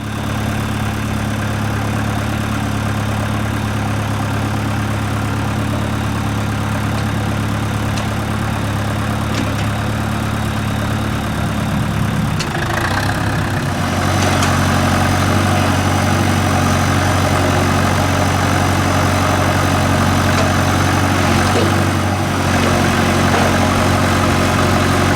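A tractor engine idles steadily nearby, a continuous low rumble with a mechanical shift in pitch about halfway through before settling back into the same even drone, with no talking.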